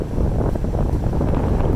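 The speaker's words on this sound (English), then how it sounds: "We're back outside in the wind, so I don't know if you're going to get this" Steady wind buffets the microphone outdoors outside a fast-food restaurant in Fort Worth, a constant low rumbling roar that fills the short stretch without a break.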